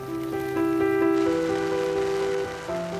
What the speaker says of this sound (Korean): 오늘은 하루 종일 비가 내리고 있다